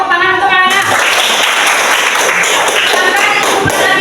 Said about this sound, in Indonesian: tepuk tangan untuk Alana